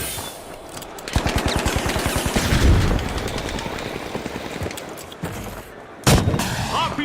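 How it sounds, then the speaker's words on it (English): Heavy gunfire rattles in a Fortnite-style shooter, with a long rapid burst of shots, booming blasts, and then a sharp explosion near the end, loud and close. "RPG fire."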